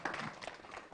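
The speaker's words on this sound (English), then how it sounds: "Give them a big round of applause" An audience at a cooking competition prize announcement gives a brief burst of scattered clapping for the third-place winner, close and fairly dense over about a second.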